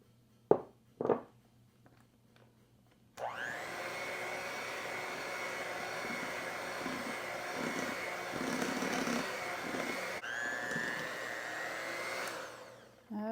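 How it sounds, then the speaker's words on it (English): After two brief knocks, an electric mixer starts up and whirs steadily at close range for about ten seconds, blending squash and flour into batter for lemon poppy seed bread, with a slight shift in pitch partway through. "now I'm going to add my squash, and I'm going to give this a mix"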